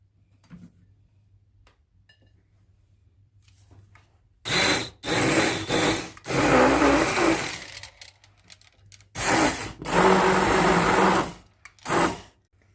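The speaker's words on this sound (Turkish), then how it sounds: "Şimdi bir paket krem şanti, toz krem şantiyi ekleyip çırpıyoruz." An electric mixer whips a packet of powdered whipped-cream mix into cooled pastry cream, running in two loud, steady whirring bursts of a few seconds each, separated by a short pause, with quiet kitchen background before.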